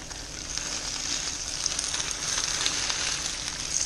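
Trout fillets sizzle in a hot frying pan with a steady, bright crackle and hiss that holds evenly throughout, with no voices.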